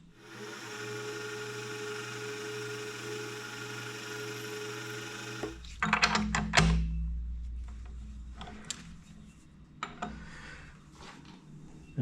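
Drill running steadily for several seconds as it bores a 3mm hole through a metal part clamped in a vise, then stopping, followed by scattered handling clatter and knocks nearby.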